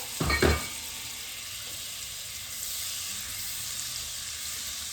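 About four tablespoons of butter melting in a pan for chicken with forty cloves of garlic, a soft steady sizzle and hiss throughout after a brief clatter at the start.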